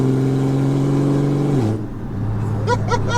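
A tuned BMW M240i accelerates, its engine holding a steady droning note before the pitch drops as it shifts, then it climbs again. The sound is close and fairly loud.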